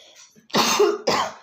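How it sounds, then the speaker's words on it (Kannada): Two loud, close coughs in quick succession, harsh and throaty, brought on by fumes from dry-roasting vangibath spice powder, the first longer than the second, with no talking. "ಘಾಟಿದೆ ಇನ್ನೂ ಸ್ವಲ್ಪ ಹಾಗಾಗಿ ಕೆಮ್ಮು ಬರ್ತಾ ಇದೆ"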